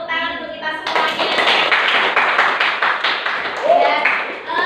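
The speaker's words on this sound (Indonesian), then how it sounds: "Beri tepuk tangan untuk kita semuanya." Classroom applause from students, a burst of clapping that starts after a brief spoken cue and runs steadily for several seconds, loud and close, with voices chattering underneath.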